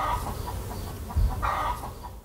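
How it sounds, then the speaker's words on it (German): A flurry of agitated hen clucks and squawks from inside a henhouse, several birds fussing at once in a noisy, close commotion. "hört sie eine Aufregung aus dem Hühnerhaus"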